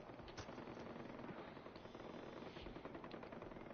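Gunfire in the video game Far Cry 4 rattles on as fairly faint, continuous bursts of rapid shots in a dense, noisy mix, with no clear single reports standing out.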